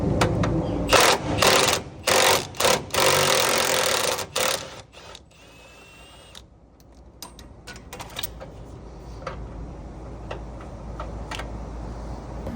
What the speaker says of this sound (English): then you'll get a 15mm socket with an impact, or that's what I'm going to use, and break this nut off to get this side out